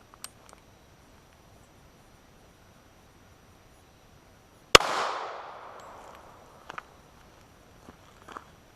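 One loud, sharp gunshot from a handgun firing heavy .45 Super loads cast in a NOE 290 HTC mold, ringing out alone in an otherwise quiet outdoor setting, its echo decaying over about a second.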